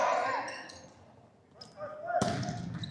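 A volleyball is spiked and slammed to the court floor during a varsity boys high school match, a sharp loud smack near the end amid gym crowd noise and a commentator's voice.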